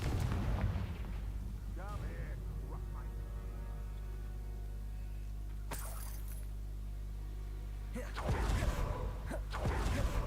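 Fiery Confringo spell blasts in Hogwarts Legacy, a booming burst at the start and louder crackling explosions near the end over a steady low game rumble, with a voice speaking briefly in between.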